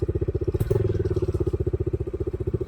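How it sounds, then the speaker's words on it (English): A Bajaj Dominar 250 motorcycle engine runs steadily with a fast, regular pulsing exhaust beat and a metallic rattle from a brake pipe, close and loud throughout with a brief clatter near the start. "the exhaust is kind of singing out, and this is just the brake pipe coming from the engine making this sound"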